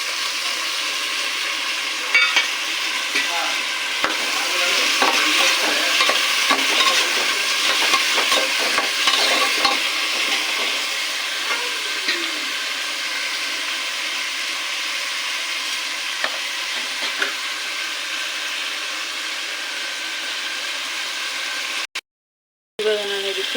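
Field beans (avarekalu), shelled and washed, tip into a hot pan for fenugreek pulao and fry with a steady sizzle, stirred with scraping spoon strokes through the middle; the hiss runs on evenly, close and alone, then cuts out briefly near the end.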